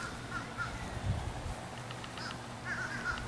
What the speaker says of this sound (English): Go out into the beautiful, quiet backyard. Hear the birds.